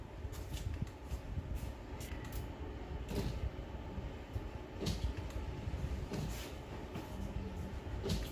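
A 2011–2015 Lincoln MKX windshield wiper motor with a fault code runs steadily, giving a continuous mechanical whir with soft creaks and clunks recurring through the stretch, fairly close and without talk.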